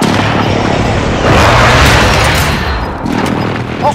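Airstrike explosions in a Call of Duty battle royale match rumble as a loud, continuous barrage of booms, dense and close, swelling and then fading slightly.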